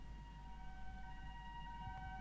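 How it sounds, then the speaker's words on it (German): A faint, distant siren from the horror video game Calling holds a steady droning tone over low background rumble, quiet and alone, with no one speaking. "Oh, diese Sirene kommt also doch."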